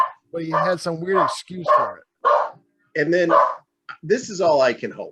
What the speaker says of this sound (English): I apologize for my barking dog